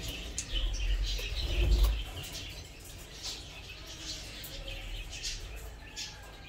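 A pair of fancy pigeons coos softly in a home loft against a steady background hum, with faint chirps and light rustling scattered throughout.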